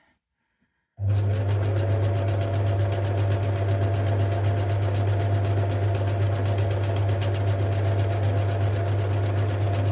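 A sewing machine runs steadily, stitching a fabric pouch with a loud, continuous motor hum and rapid needle rhythm that starts after a brief silence and continues alone to the end.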